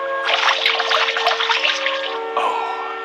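Water from a stream is poured from a pitcher in a steady, bright trickling splash, heard close and clear over a sustained musical backdrop, with the flow easing off near the end.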